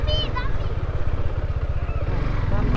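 A motorcycle engine idles and revs at a steady throb, close and loud, as the bike sets off onto the highway, with voices talking over it.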